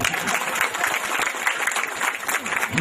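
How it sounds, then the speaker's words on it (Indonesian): An audience at an Islamic religious lecture breaks into loud, dense, sustained clapping that fills the space evenly from start to finish, many hands at once, with little voice heard underneath. "Tepuk tangan dulu dong."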